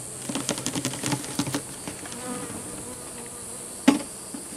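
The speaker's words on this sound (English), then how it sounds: "Little bees up there trying to get sugar water" Bees buzz around an empty sugar water feeder, a faint high hum with irregular tapping clicks early on and a sharp knock near the end, no voices.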